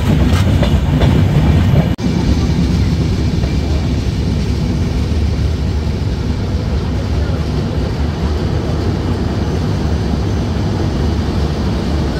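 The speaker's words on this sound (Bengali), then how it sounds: "ট্রেনটি প্রবেশ করছে শিবচর রেলওয়ে স্টেশনে" The Madhumati Express rolls into Shibchar railway station with a steady, loud rumble and rhythmic clickety-clack of the wagons, heard from on board.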